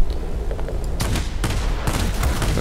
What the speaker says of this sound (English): I love when I overheat my guns not hitting anything